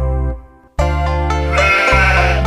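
A loud, sustained goat-like bleat sounds over musical backing in a children's song, with the tone shifting partway through, close and dominant.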